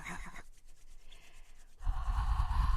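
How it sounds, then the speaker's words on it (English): A person's hands rub together in a brief soft swish, fall nearly silent, then rub again more loudly with a dry, steady friction sound. "Rub your hands together right now."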